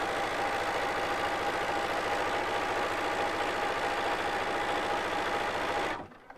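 A sewing machine stitches 4-patch quilt blocks in a steady, continuous close-up whir that runs unbroken for about six seconds, then stops abruptly into near silence.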